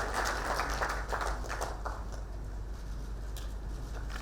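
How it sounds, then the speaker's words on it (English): Steady, dense applause from a large crowd at a summit where Yoweri Museveni meets Paul Kagame of Rwanda, a continuous even patter from start to finish with no talk over it. "we give them more hearty clap"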